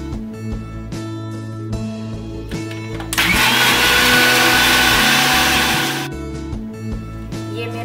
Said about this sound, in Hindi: एक मिक्सी में ये डालती हूँ और इनको पीस लेती हूँ।